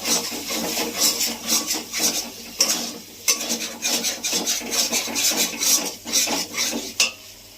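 Spices for potoler dorma frying and being stirred in a pan, with repeated scraping rubs of a spatula against metal in an irregular rhythm, close and fairly loud, no talking.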